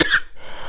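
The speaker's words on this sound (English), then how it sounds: "Sorry for the cough." One short, sharp cough bursts out at the start, followed by quiet room noise.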